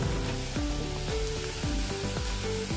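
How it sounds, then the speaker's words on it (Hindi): Soya rice masala roasting in a pan on low gas gives a steady near sizzle with soft periodic stirring scrapes, no voices. "कम गैस के ऊपर भुनिए, बहुत ही टेस्टी लगती है"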